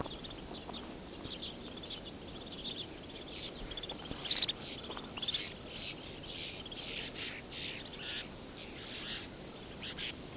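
Redpolls calling among a flock of snow buntings outdoors, with many faint, high chirps and twitters scattered throughout over a steady background hiss, distant and continuous, no voices.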